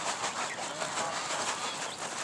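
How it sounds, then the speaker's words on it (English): Flock of pigeons flying down from the sky, wings flapping in a dense, fluttering rush that stays continuous and fairly close throughout. "And we got the pigeons. They're coming from the sky."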